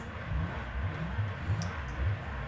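A sports car engine in Gran Turismo drones and revs steadily during a Class A race, a low continuous engine tone with mild surges and no talk.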